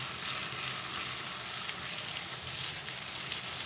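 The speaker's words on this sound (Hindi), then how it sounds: "1 table spoon ginger and garlic paste डालेंगे और इसको मिक्स करेंगे" Ginger garlic paste frying in a pan while being stirred, a dense, continuous hiss of sizzling oil held close and steady with no talking.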